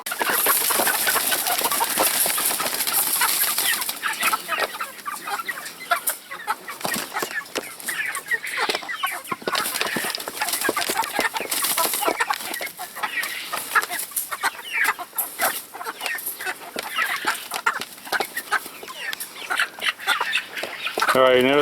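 Flock of Black Copper Marans chickens clucking and squawking continuously while being caught and moved, a dense busy chorus of close bird calls with scuffling and a faint hiss throughout.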